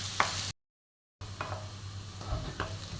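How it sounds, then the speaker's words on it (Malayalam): Onions sautéing with crushed ginger and garlic in a pan give a steady, close sizzle with a few stirring scrapes, cut by a short silent gap. "ഇതിലോട്ട് 2 സ്പൂണ് ഇഞ്ചിയും വെളുത്തുള്ളിയും ചതച്ച് ചേർത്ത് കൊടുക്കാം. ഇനി നന്നായി വഴറ്റിയെടുക്കണം."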